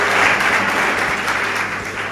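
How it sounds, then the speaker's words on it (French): Steady audience applause for a top graduate at an award ceremony for Djibouti's best baccalaureate students, a dense even wash of clapping heard close and loud. "applaudissez"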